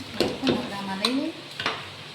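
Gathiya snacks deep-fry in hot oil with a steady sizzle, while a metal utensil stirs and scrapes against the pan in a few close knocks and a voice briefly speaks.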